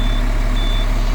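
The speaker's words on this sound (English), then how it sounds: "Hear the turbo?" A dump truck's engine rumbles steadily up close, with a thin high whine of the turbo spooling riding above the low drone for just over a second, no voices.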